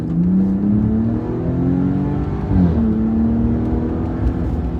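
A 2025 Ram 1500 RHO pickup with the Hurricane engine accelerating hard from inside the cab, a loud, rising engine tone that dips at a gear change and climbs again, with no talking.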